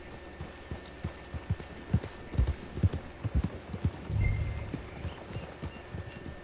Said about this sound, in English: Poxa, queria ficar com esse cavalo preto.